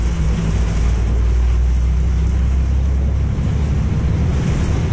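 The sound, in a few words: rain while driving a car on the road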